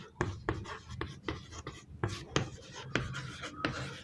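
Chalk or marker tapping and scratching on a classroom board during a history lesson, in quick irregular strokes, moderately close, with a teacher's voice around it.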